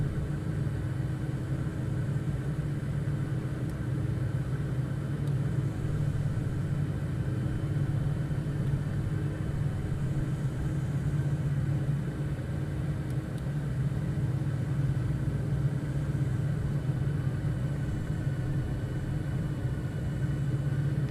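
Steady, unbroken drone of a light aircraft engine with power added on approach to landing in Flight Simulator 2020, holding at a constant, moderately loud rumble with no voices.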